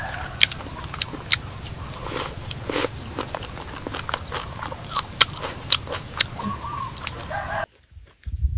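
Roasted bullfrog with spicy chili sauce is chewed close up outdoors, wet crunchy bites and chewing clicks coming in an irregular rhythm before the sound cuts out near the end.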